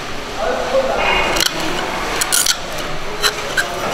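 Corner of tile snips scraping and rasping at the corner of a ceramic tile, in short gritty strokes with a few sharper scratches, close and fairly loud.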